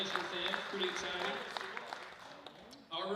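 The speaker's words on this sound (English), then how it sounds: "let's give him a big round of applause" Applause at a Grove Rotary club meeting for a student who won a wrestling state championship, a steady wash of clapping from a small room crowd that fades out partway and gives way to nearby talk.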